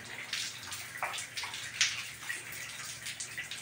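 Water runs and splashes steadily while dye is rinsed out of hair, a soft continuous wash with scattered patters and drips at moderate volume.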